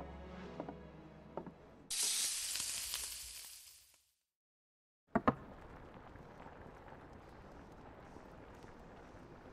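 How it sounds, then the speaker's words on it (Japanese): Monster liver fritters fry in a Final Fantasy XVI cooking scene: a loud burst of sizzling spray cuts off into brief silence, then a sharp clatter gives way to a softer, steady frying hiss. "早速調理してみるから待っててちょうだい"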